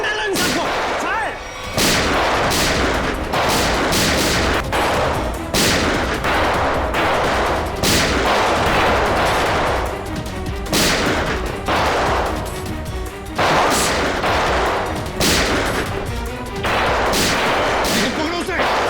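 Dense, sustained gunfire in a TV police shootout, loud bursts and volleys crackling almost without pause for close to twenty seconds, with shouting voices mixed in.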